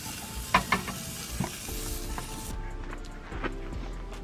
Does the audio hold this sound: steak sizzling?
yes